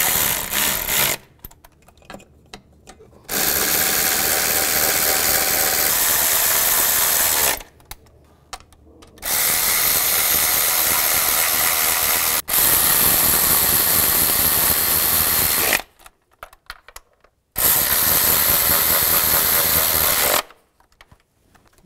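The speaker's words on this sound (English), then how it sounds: "I'm going to tighten the ones in the center first and work my way out just to tighten the cover" A power tool tightens valve cover bolts on a 2010-2017 Chevy Equinox engine, running in four loud, sustained bursts of several seconds each with short quiet pauses between them.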